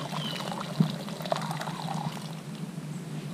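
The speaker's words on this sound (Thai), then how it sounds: "ก็เทน้ำซุปนี้นะครับกลับใส่หม้อไว้ครับ" Pork broth pours steadily back into a pot in a continuous splashing trickle, close by, with a couple of small clinks.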